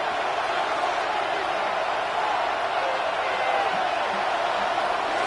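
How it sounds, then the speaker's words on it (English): The stadium crowd at Arrowhead roars during a football game as a dense, steady wash of distant cheering with no breaks. "the crowd at Arrowhead roaring"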